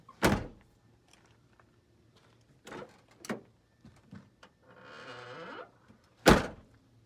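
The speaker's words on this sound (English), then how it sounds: "Close the door." Pontiac GTO car door during body work, with several solid thunks and knocks spaced apart, a short whirring rasp in the middle and one final loud slam near the end, in a quiet space.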